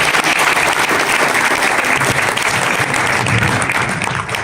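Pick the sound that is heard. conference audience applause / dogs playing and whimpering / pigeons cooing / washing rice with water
conference audience applause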